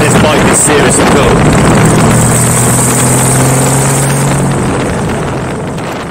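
A custom Honda Valkyrie bobber motorcycle's engine runs steadily at a low, throbbing idle, close and loud under wind buffeting, then gradually fades toward the end.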